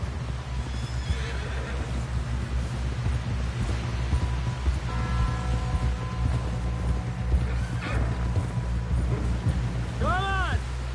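Horses in the Red Dead Redemption 2 video game gallop with rhythmic hoofbeats under background voices, then a loud whinny rings out near the end.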